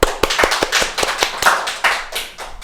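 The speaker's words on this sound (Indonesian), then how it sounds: "Tepuk tangan dulu dong." A few people at a podcast recording clap to welcome a guest pediatrician, close, distinct hand claps in a quick uneven rhythm, loud and nearby with no talk over them.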